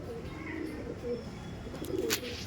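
Soft, low cooing from Madrasi pigeons after release, murmured calls recurring nearby over a faint steady background.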